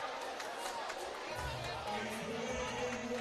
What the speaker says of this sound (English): The crowd is getting active here.